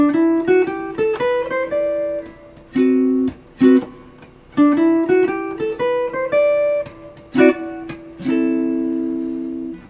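A clean jazz guitar plays a melodic single-note line over a Mixolydian scale in quick phrases, with short pauses between runs and a few sustained notes ringing out.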